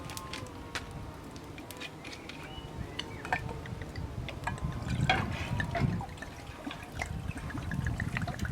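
Water poured from a good bottle inside a Land Rover campervan, a faint continuous trickle and glugging that swells midway, with small drips and clinks scattered throughout.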